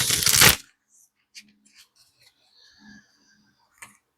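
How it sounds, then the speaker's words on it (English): A deck of tarot cards is pre-shuffled by hand, opening with a short, crisp riffle burst. Sparse soft clicks and light card taps follow in near silence. "So I'm going to pre-shuffle these."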